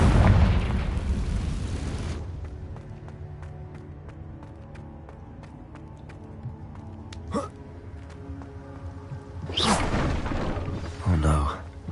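Confringo spell explosions in a Hogwarts video game, a heavy boom at the start fading into a quieter magical hum with sharp pops, then another loud burst near the end.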